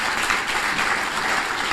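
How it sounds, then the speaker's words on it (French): Dense, steady audience applause for the alumni at the INP-HB Alumni Day 2025 event, many hands clapping together without a break. "Il faut applaudir les alumni."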